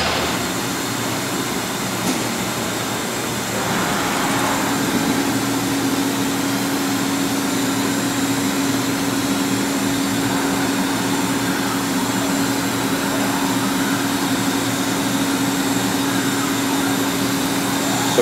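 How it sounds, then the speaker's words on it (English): An LK Machinery TC-1200 vertical CNC drill-tap center runs a rigid tapping cycle, giving a steady, continuous machine drone with a sustained tonal hum and faint mechanical whir at an even level throughout, no voices. "Feed and speed on rigid tapping is limited by the tap that you are using"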